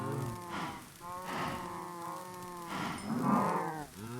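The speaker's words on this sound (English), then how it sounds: "we can breed these cows quickly" Cattle in Minecraft give several drawn-out moos, overlapping and fairly loud, with short gaps between calls and no speech.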